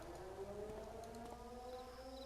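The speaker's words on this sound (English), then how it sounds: "Why do I hear a siren?" A rising and falling video game siren wails steadily over a low rumbling background, sustained throughout with faint higher tones drifting above.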